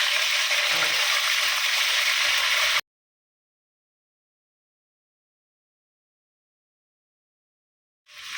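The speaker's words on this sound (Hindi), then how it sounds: "आधा कप तेल डाल दिए, अभी चिकन को फ्राई करेंगे।" Chicken fries in half a cup of oil in a steel kadhai, giving a loud, steady, hissing sizzle that cuts off abruptly into silence, then starts again briefly at the end.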